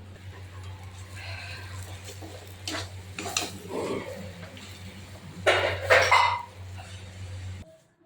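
Small shrimp are stirred into a taro (kochu) curry in a pan, with a few scraping and clattering strokes of a utensil against the pan over a steady low kitchen hum; the loudest burst comes near the end.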